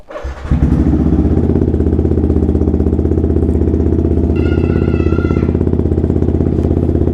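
A Yamaha MT-15 motorcycle riding on new Michelin Road5 tires, its engine droning loud and steady close by after a brief start, with a rising whine near the end and no talk.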